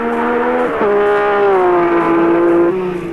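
A 1983 Bathurst 1000 touring car driven by Jim Richards screams up the mountain on a Hardies Heroes flying lap, its engine note loud and close, dipping sharply at two gear changes before climbing again.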